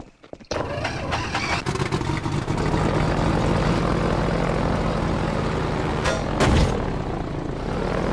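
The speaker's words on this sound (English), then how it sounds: "Landing pad for the helicopter?" Helicopter in the video game Half-Life 2, a steady loud rotor and engine drone starting abruptly and holding near throughout, with a brief swell toward the end and no talk.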